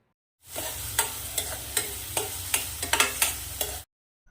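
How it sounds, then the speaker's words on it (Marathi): Finely chopped onion sautés in two to three spoons of oil while being stirred, giving a steady close sizzle broken by regular scraping strokes of a spoon against the pan, with no voices. "एक बारीक चॉप करून घेतलेला कांदा चांगला परतून घ्यायचा एक ते दीड मिनिट"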